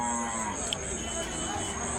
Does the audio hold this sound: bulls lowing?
yes